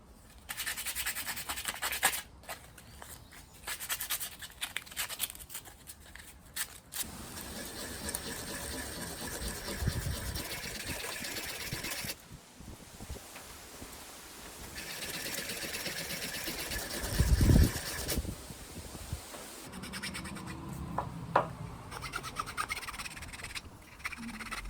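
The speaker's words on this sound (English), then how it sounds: "now I can sand the rest of the body just to make it slicker and more fun to hold" Hand sanding of a wooden Y-branch slingshot body with a sheet of hard sandpaper: steady scratchy rubbing strokes close by, broken by brief pauses and a couple of louder handling knocks.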